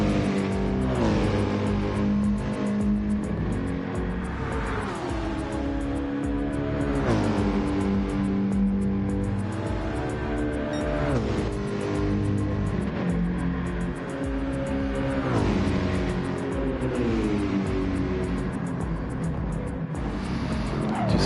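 Lamborghini Murcielago racing car lapping the Bathurst circuit in a racing video game, its engine a steady loud drone with repeated rising and falling pitch sweeps through gear changes and corners, with music-like tonal layers throughout.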